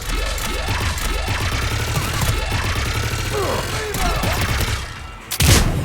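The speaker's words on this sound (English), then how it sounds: "Just following the gunfire" Rapid gunfire in the video game Mass Effect 3, sustained bursts of automatic weapon fire with sweeping whooshes and mechanical clatter, loud and continuous, ending in a heavier impact blast.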